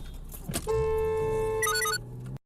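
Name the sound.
car horn honking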